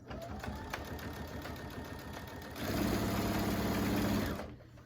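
A sewing machine runs a quarter-inch seam along a quilt top, a faint steady whir that turns louder and more rhythmic for a couple of seconds before stopping.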